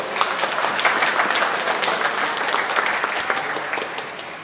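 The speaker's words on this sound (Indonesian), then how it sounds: "Kita beri tepuk tangan untuk mereka semua." A Catholic parish congregation at a Sunday Mass in Lent gives a loud, dense round of applause, even crackling claps filling the church and tapering slightly at the end.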